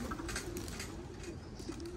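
Racing pigeons cooing at a loft, with low, soft repeated coos in a steady murmur over background bird noise; no one is talking.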